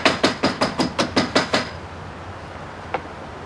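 A hammer taps a metal roof drip edge into place with about eight quick, evenly spaced sharp metallic knocks, then falls quiet before a single softer tap near the end.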